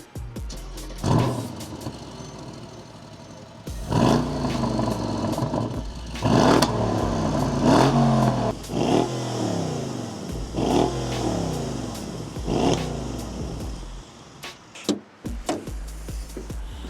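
A Mercedes CLS 63 AMG engine revs repeatedly nearby, roaring up in several loud bursts and dropping back to idle between them.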